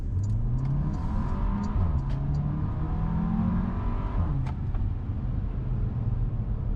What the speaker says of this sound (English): this is a base Macan with a 4-cylinder engine, and it sounds like that